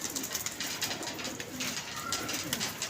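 Pigeons make soft cooing and rustling close by on a rooftop loft, a steady low murmur of bird sounds with no talking.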